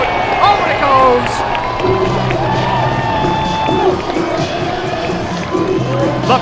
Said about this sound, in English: Much to the cheers of the crowd.